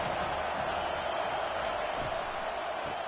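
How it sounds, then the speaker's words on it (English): Crowd noise from the video game NCAA 25, a steady, dense roar of a stadium crowd rising behind the defense on third down, loud and unbroken throughout. "Decibels rising as the crowd gets behind this defense on third down."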